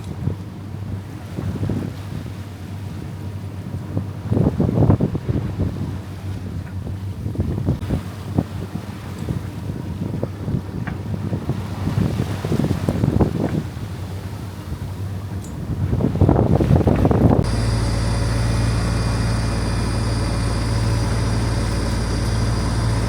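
Wind buffeting a sailboat under way with the genoa flapping, gusty roaring bursts and loose sail flutter, then a steady heavy wind rush near the mic, no speech.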